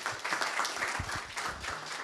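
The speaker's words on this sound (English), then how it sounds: "One more applause, please." An audience at a cybersecurity meetup applauds, a dense patter of many hands clapping steadily for a couple of seconds, moderately loud and filling the room.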